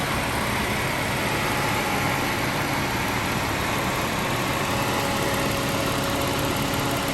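A 2015 Ford Falcon FGX ute running on factory LPG, its engine idling steadily and evenly at close range with no voices over it.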